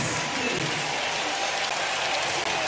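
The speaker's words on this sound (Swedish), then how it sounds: "alla ställer sig upp på arenan här nu för att försöka klappa fram" A stadium crowd at the Zurich Diamond League claps along for Armand Duplantis' pole vault world record attempt, dense sustained applause filling the arena, with faint voices mixed in.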